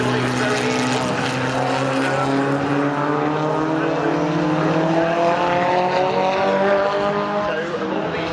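A pre-1966 Grand Prix race car in a historic race at Silverstone, engine roaring loud and close with a falling pitch as it passes, with a commentator talking over it.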